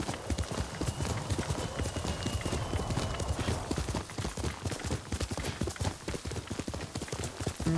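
A summoned horse gallops in Ghost of Tsushima, its hooves pounding out a fast, steady clip-clop rhythm, close and loud for the whole stretch with no talking over it.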